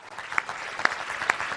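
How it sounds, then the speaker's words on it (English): Crowd of Israelis cheering at airstrikes, a dense wash of clapping and shouting with a few sharper bursts standing out, steady and moderately loud throughout. "there are lots of Israelis gathered around who are cheering when they see these kinds of Israeli strikes"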